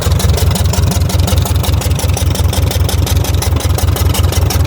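A 1953 Ferguson TO-30 tractor engine that had sat for 15 years idles at a slow, steady, even chug, with each firing pulse loud and near in a regular low thump-thump rhythm and no voices over it.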